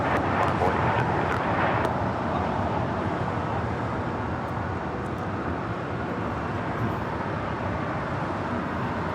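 Delta airliner bound for Tokyo Haneda taking off at LAX, a broad steady jet roar heard from a distance, with faint traffic noise underneath.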